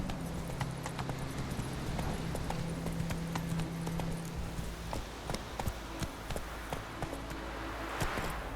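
A horse gallops in The Witcher 3, quick clip-clop hoofbeats running continuously over a low rumbling game ambience, close and steady, with no talk.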